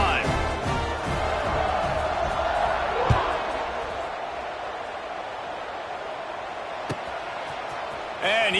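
A stadium crowd in the NCAA 26 college football video game produces a steady broad roar with a few thuds, holding at a constant level beneath continuous play-by-play commentary.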